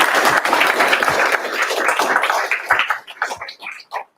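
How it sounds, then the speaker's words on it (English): An audience at an OWASP Ottawa security meetup gives a round of applause, a dense, loud wash of clapping that thins out and tapers off toward the end. "Let's take a minute for another round of applause"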